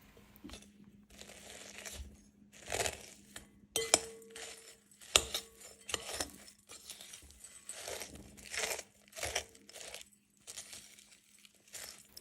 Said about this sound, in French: il ne te reste plus qu'à mélanger et c'est tout